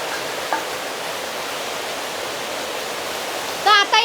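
Heavy monsoon rain pours down in Konkan as a dense, steady roar of hiss that never lets up, with a short voice breaking in near the end.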